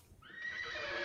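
Horses neigh in the 1974 film Young Frankenstein, a loud whinny rising after a brief quiet start and holding strong to the end, layered with several high sustained calls.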